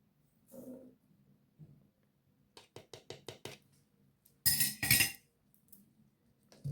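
A spoonful of baking soda clinks into a bottle: a quick run of small, close, bright metallic taps, then a louder burst of rattling and scraping, with quiet pauses around them.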